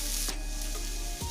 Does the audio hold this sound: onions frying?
yes